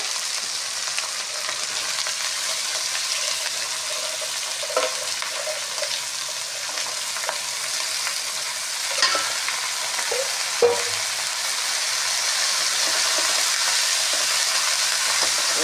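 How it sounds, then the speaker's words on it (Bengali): Potatoes sautéing in a pan with green chili paste and ginger paste before pumpkin greens are added: a steady loud sizzle and fry with occasional stirring scrapes, continuous and close with no talking. "এবার এই কাঁচা লঙ্কা বাটা, আদা বাটা দিয়ে আলুটাকে কষবো। কষে এই শাকগুলো দিয়ে দেবো।"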